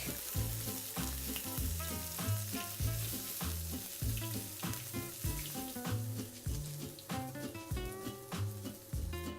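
Garlic and ginger frying in a pan, a steady close sizzle with repeated scraping and stirring strokes throughout, with no voices over it.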